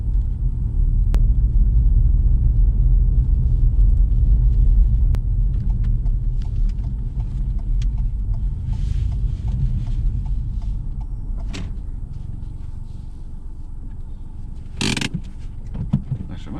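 A car slowly manoeuvring into a parking bay during a UK extended driving test, steady low engine rumble throughout with a brief sharper mechanical noise near the end.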